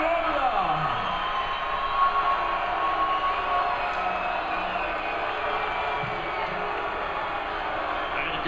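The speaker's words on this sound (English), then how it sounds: "And you can hear the reaction from the crowd." Boxing crowd in an arena reacting to a split-decision verdict, a sustained loud roar of voices with scattered shouts and whoops, broad and continuous throughout with a commentator talking over it.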